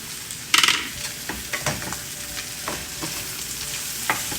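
Egg, vegetables and SPAM stirred together in a hot pan for fried rice: a steady close sizzle broken by sharp spatula scrapes and taps, quiet apart from the cooking.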